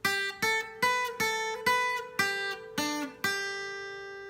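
Eight plucked guitar notes form a simple melody from the SpongeBob theme, played steadily and up close, with the final note ringing out and slowly decaying.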